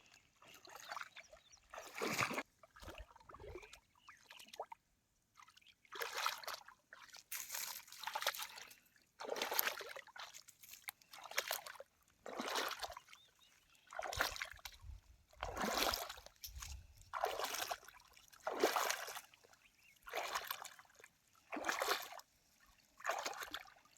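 Irrigation water runs through furrows in a freshly planted sugarcane field, with faint trickling and sloshing that comes in a steady series of regular surges, quiet and close.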